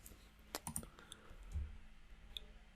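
Keyboard keys and a mouse click at a computer, a few quick sharp taps close together then a sparse click or two, faint and close with no voice.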